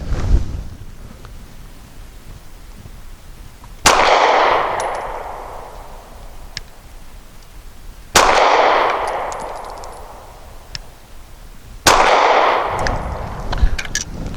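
Three loud gunshots from a Mossberg MC1SC subcompact pistol firing 147 grain training match ammunition, spaced about four seconds apart, each a sharp crack followed by a long echoing decay on an outdoor range.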